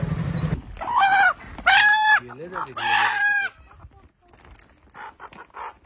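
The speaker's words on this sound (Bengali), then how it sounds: "হাটে সব সোনালি মুরগি।" Sonali chickens at a busy livestock market cluck and crow up close, with several loud drawn-out crows and clucks in quick succession before the sound fades into softer, more distant flock noise.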